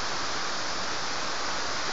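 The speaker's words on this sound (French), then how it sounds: "La cascade doit démarrer" Cascade de la Frasnée in the Jura pours in a dense, steady roar of falling water, broad and unbroken across the short stretch, heard close and loud without any voices.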